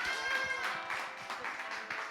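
A church youth-service congregation claps to welcome a newcomer, a dense patter of hand claps sustained through the whole stretch at moderate volume, with faint voices underneath.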